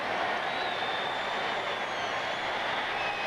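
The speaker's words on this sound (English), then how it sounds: "Here comes the crowd again" A stadium crowd at a 1986 Mississippi State versus Tennessee college football game roars as a steady, dense, wash of noise, distant and sustained without breaks.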